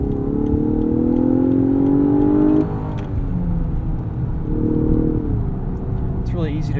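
A 2018 Lexus LS 500 AWD engine revs in Sport Plus mode and climbs in pitch, then drops off to a lower steady hum, with a person talking over it.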